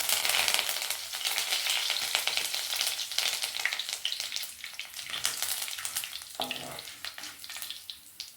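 Fennel, mustard seeds, urad dal and curry leaves sputter in hot oil with dense crackling and popping. The frying is loudest early, then eases and flares again, with a brief stir near the end and no voices.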